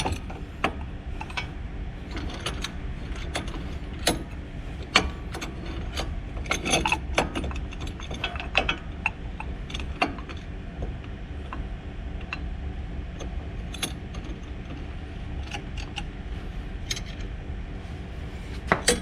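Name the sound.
C-clamp pushing brake caliper piston back in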